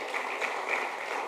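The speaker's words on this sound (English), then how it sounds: "give them a round of applause" Audience applause in an auditorium at an economic growth and resilience dialogue, a faint, steady patter of many hands clapping at a distance, continuous and even throughout.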